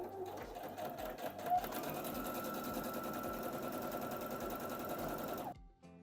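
A sewing machine stitches a facing onto the top of a Burda skirt, running in one steady, continuous whir for about five seconds before it stops abruptly near the end.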